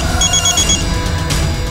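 A telephone rings during a crime drama scene, its electronic ring tone repeating in a clear, steady pattern over a low background hum, with no voices.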